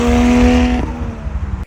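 Turbocharged Mustang fitted with a stock 1JZ-GTE VVT-i engine on a FuelTech FT450, being driven and drifted: a loud, steady engine drone that drops in pitch partway through, then cuts off abruptly near the end.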